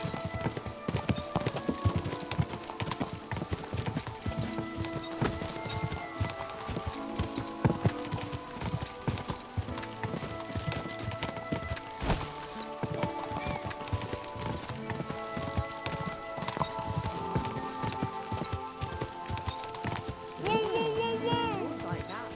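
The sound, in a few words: horses galloping, clip-clop hooves in video game Kingdom Come Deliverance 2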